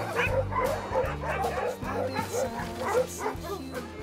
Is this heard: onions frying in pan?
no